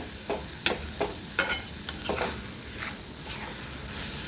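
Coarsely crushed peanuts sauté in a pan for onion tomato chutney, with repeated scraping spatula strokes over a continuous close sizzle.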